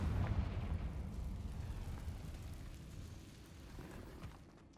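A Confringo fire spell explodes in Hogwarts Legacy, a deep rumbling blast that rolls on and slowly fades over several seconds, fairly quiet with no talk.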